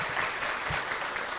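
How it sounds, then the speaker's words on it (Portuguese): An audience at an educators' meeting gives a brief, quiet round of applause, a soft wash of scattered clapping lasting only a moment with no speech over it. "Palmas para ela, né?"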